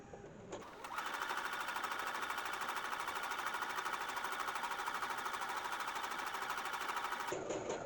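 A sewing machine runs steadily for free-motion quilting, a fast, even mechanical whirring and needle rattle that starts abruptly after a moment of quiet and stops near the end.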